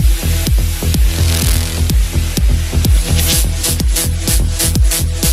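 Song playing through a phone's music player app, with a steady driving beat and repeated percussive hits over sustained harmonic tones, loud and continuous with no talking.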